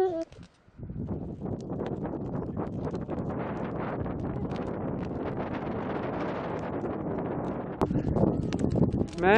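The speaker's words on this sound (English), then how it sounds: "Man, the wind has really picked up." Strong wind blowing outdoors at a branch-disposal bonfire site, loud continuous gusting roar buffeting the microphone, with someone speaking briefly over it.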